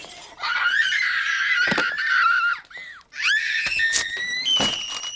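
A woman screams in a scene from the film Mean Girls: a long, shrill, wavering cry that breaks off briefly and resumes, with a few sharp crashing noises near the end.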